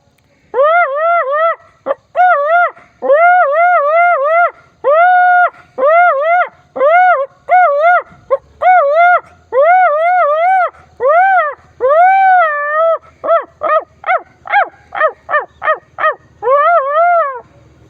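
A boy imitates a jackal's howl with his voice: a close, loud chain of drawn-out wavering howls that breaks into quicker short yelps near the end and returns to a howl.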